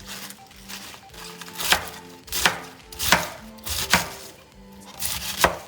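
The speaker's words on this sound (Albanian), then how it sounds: "Pra e grini kështu dhe hedhni tek tepsinja." Cabbage is cut into shreds for a winter mixed salad. Crisp, evenly spaced cutting strokes fall about once every second, close and fairly loud, with a faint kitchen hum between them.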